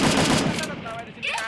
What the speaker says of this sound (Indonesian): Di sini ada tembakan dari Arya Killer sangat sekali